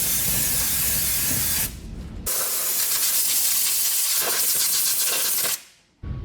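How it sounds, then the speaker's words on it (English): Brake cleaner from an aerosol can hisses onto the brake fittings of a 1967 VW Beetle in loud, close bursts of spray, broken by a couple of brief pauses and ending in a quick cutoff. "give everything a shot with some brake cleaner"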